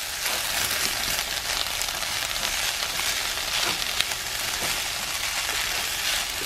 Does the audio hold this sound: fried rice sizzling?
yes